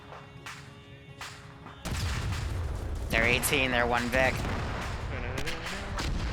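Gunfire and shell-impact explosions from a military operation in the video game Arma, using RHS mod sounds, crack and rumble in a dense, continuous barrage. Voices talk over the distant booms.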